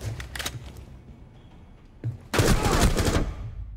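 Gunfire in Rainbow Six Siege, with a few sharp shots early on, a quiet lull, then a loud sustained burst of automatic fire close by toward the end.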